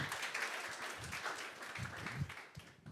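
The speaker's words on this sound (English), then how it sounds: "another big round of applause" An audience at a data analytics and AI in financial services event applauds, with steady clapping throughout.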